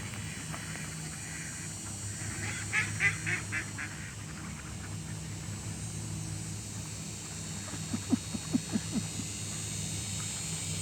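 Waterfowl by the water give loud nasal honking calls in two clustered bursts, one early and one later, over a steady low background hum.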